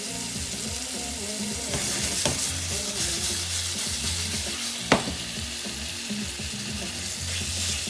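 Cinnamon-spiced plantain cooking over medium heat on a stovetop, giving a steady close sizzle with occasional stirring scrapes and one sharp utensil knock, and no talking.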